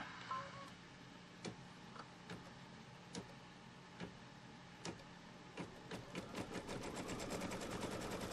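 A sewing machine stitches a straight line across quilt fabric in sparse clicks that build into a rapid, steady run of needle strokes, close and fairly quiet, with no talk.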